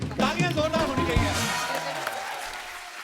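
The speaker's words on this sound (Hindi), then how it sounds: "तालियां जोरदार होनी चाहिए" Studio audience applause on The Kapil Sharma Show rises under a host's speaking voice, then continues on its own as a broad, fading patter of many hands.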